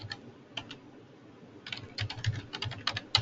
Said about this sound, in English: You can just go type this in,